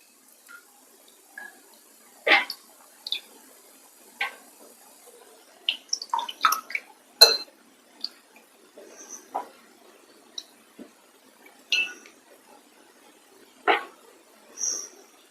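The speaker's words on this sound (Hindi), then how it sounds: "एक बड़े बाउल में पानी लिया है, गाजर को ऐड करते हैं इस तरह से पानी में, धुलकर साफ कर लेते हैं इस तरह से।" Carrots are washed by hand in a big bowl of water, giving scattered sloshing splashes and drips at irregular intervals, close and fairly quiet, with near silence between.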